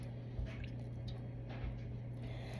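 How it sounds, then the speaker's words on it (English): A cup of cooking oil is poured into a frying pan while preparing latkes, giving a faint, soft liquid trickle with light drips against a steady low background hum. "Here's our cup of oil, and we're gonna pour that into the pan"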